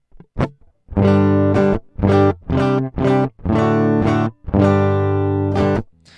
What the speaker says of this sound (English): Sounds just like a direct-in guitar.